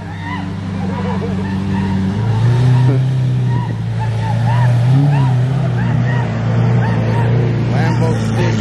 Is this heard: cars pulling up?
yes